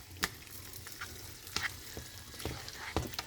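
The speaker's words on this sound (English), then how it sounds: "Stir this up real nice." Chicken in mango curry sizzling in a pan while being stirred, a steady frying hiss broken by spoon scrapes and knocks against the pan, close and moderate.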